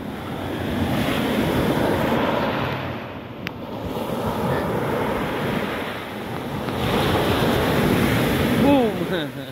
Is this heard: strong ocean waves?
yes